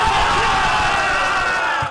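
Canadian soccer fans cheer a 6-0 World Cup win with a loud, sustained roar, a dense crowd noise that carries unbroken for two seconds.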